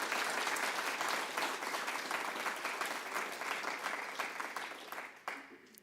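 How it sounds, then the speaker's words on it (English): A crowd at an academic symposium breaks into sustained applause for the presenters that gradually thins and fades toward the end, with a voice briefly heard under the clapping. "can we just give a big round of applause to all our presenters"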